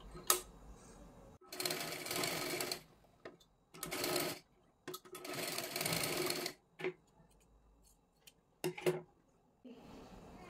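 A sewing machine stitches a blouse in several bursts of rapid whirring, each lasting about one to one and a half seconds, separated by pauses and light handling clicks, close and clear.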